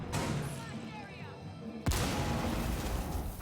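Gunfire in the video game Rainbow Six Siege, where the attacker Ash shoots out a Volcano shield. A burst of shots is followed by a sudden loud blast that stays dense and noisy, all under a commentator's voice.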